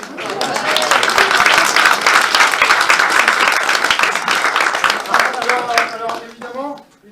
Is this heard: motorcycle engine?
no